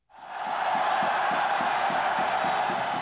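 A large crowd of Korean soccer fans roars in cheering, rising quickly from silence into a sustained, loud wall of voices with rhythmic chanting pulses underneath.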